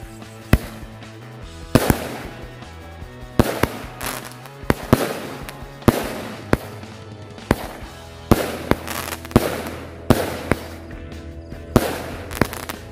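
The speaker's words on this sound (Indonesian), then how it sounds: "Kita lanjut lagi menyalakan mercon Lovely Flower 16 lesutan." Lovely Flower 16-shot firework cake going off at night, a rapid series of loud sharp bangs and crackling bursts spaced about a second apart, each trailing into a hissing, crackling fall.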